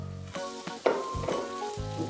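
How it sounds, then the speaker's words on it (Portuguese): Two tablespoons of margarine sizzle in a saucepan while making a ganache, a brief crackling fry heard alongside steady tonal background sound. "Aqui na minha panela eu vou colocar 2 colheres de sopa de margarina"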